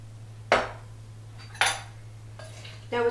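Dry ingredients being folded into wet cake batter in a mixing bowl, with three or four distinct clinks and scrapes of utensil against the bowl spaced apart over a steady low hum, no talking.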